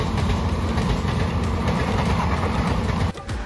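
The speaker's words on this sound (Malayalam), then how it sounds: "അപ്പോൾ ആ ട്രെയിൻ പാസ് ചെയ്തുകൊണ്ടിരിക്കുകയാണ്." A passenger train on a Kerala to Mookambika rail journey rumbles past close by, a loud, steady roar of wheels and carriages that drops away abruptly near the end.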